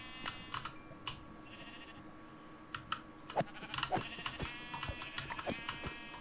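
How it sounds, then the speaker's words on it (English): Sheep bleat in Minecraft while being sheared for wool, a few short digital bleats mixed with steady rapid computer keyboard typing and clicks close up. "Sorry, sheep. I need your wool, and this is the quickest way for me to get it."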